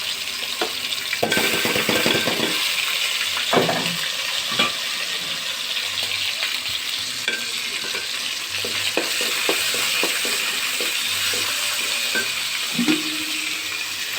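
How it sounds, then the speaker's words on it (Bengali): Chicken frying in a pan for fried rice, with lemongrass already added, gives a steady close sizzle throughout, broken by scattered utensil scrapes and small knocks, with no talking. "চিকেন দিচ্ছি।"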